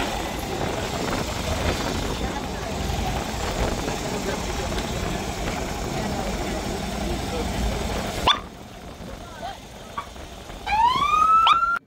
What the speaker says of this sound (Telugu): బండిలో సైరన్ కొట్టేస్తున్నారు